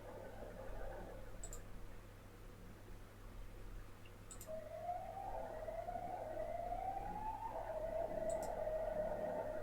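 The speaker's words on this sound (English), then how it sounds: "And there's ambulance. Ambulance sounds." Ambulance siren outside a window, heard from indoors: a faint, rising and wavering wail that swells over several seconds as the vehicle approaches, over steady low room hum, with occasional soft clicks.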